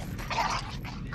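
A dog in a film clip gives a few short, rough barks and yips over a steady background hum, at moderate loudness.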